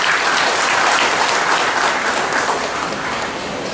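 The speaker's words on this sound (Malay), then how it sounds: "Tepukan yang gemuruh bagi dia." Thunderous crowd applause at a Perikatan Nasional political rally in Petagas, Sabah, a dense, loud, continuous roar of clapping that fades slightly toward the end, with no speech over it.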